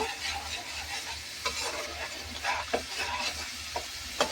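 Onions fry in masala for a crab curry, a steady close sizzle with occasional stirring scrapes and light taps of a spoon against the pan.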